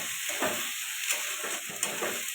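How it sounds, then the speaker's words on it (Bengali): Garlic and ginger paste frying in oil for chicken momo filling, a soft hiss with rhythmic stirring scrapes and clicks of a spoon against the pan, close and fairly quiet. "এখন দিয়ে দেবো রসুন একে একে দিয়ে দেবো আদা বাটা এটা ভালো করে কষাতে থাকবে"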